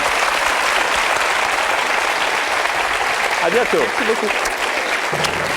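Studio audience of a French TV quiz show, Qui veut gagner des millions, applauding loudly and continuously for a departing contestant, a thick sustained clatter with the host speaking briefly over it near the end.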